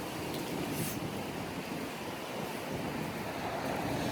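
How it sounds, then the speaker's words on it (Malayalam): Strong gusting wind in Greenwich, London, on a rainy day, a loud continuous roar buffeting the microphone with no talk. "പക്ഷേ കാറ്റ് വന്നു കഴിഞ്ഞാൽ ചെവിയെല്ലാം പോകും."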